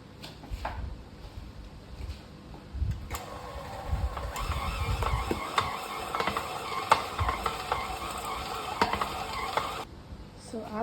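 A stand mixer kneading sourdough brioche dough, a continuous close mechanical churning with rhythmic knocks and thumps throughout.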